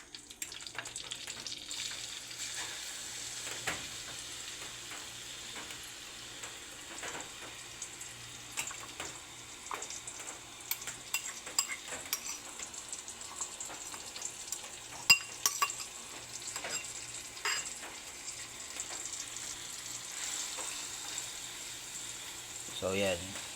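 Grated turmeric toasts in coconut oil, giving a faint, steady sizzle with scattered clicks of stirring and utensils, while a person talks quietly over it at times.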